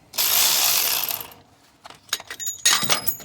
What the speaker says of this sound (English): I'm gonna be removing this idler here.